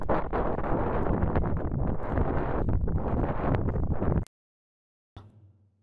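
Strong wind buffets the microphone on the descent from Pen-y-ghent in the Yorkshire Three Peaks, a loud roaring gust noise for about four seconds that cuts off abruptly, followed by a short fainter burst.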